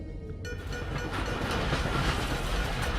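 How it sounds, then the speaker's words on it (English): Inside the game Dishonored, a train rumbles past overhead, a sudden loud onset of rolling clatter and rumble that swells and holds close for the whole stretch. "is there a train going overhead?"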